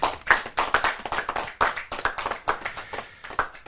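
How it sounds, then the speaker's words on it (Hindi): Audience clapping at a Hindi poetry gathering, a fairly small group giving rhythmic, uneven applause with distinct individual claps, moderately loud and steady for a few seconds. "जोरदार तालियों के साथ"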